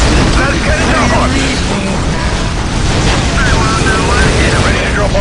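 Imperial Guard cannons fire in the Warhammer 40k Dawn of War Soulstorm video game, a loud, dense, unbroken roar of booming blasts and battle rumble that fills the whole stretch.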